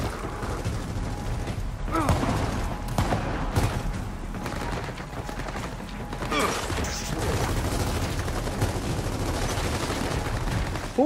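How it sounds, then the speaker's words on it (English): Gunfire in the Gears of War 4 video game: bursts of rapid automatic fire and scattered shots crackle over a dense rumbling battle bed, fairly near, with mechanical clanks in between. "Who is shooting me?"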